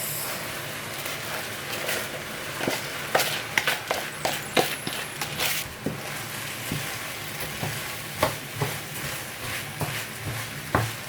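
Basmati rice tipped into a hot pan with eggs and fried, steady sizzling broken by irregular scraping and tapping of a spatula, close and moderately loud, no talking.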